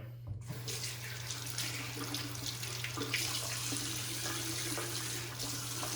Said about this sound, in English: Let's just drown that brush. There's loads of water on that.